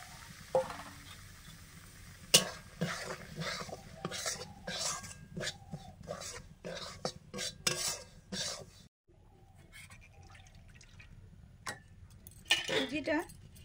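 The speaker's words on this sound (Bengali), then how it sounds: "এইটা আমি কড়াতে নেড়ে নেব।" Lightly ground semolina being stirred in a kadai, a series of scraping and clinking strokes from a spoon against the pan, fairly close, with someone speaking softly between them.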